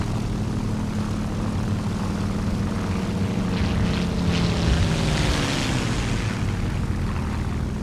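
Propeller aircraft engine in War Thunder throttling down, a steady loud droning hum with a slowly shifting pitch that dips lower toward the end, continuous with no talking.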